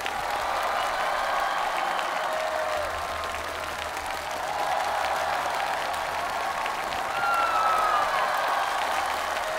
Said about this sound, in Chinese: 掌声给我们了不起的歌手们。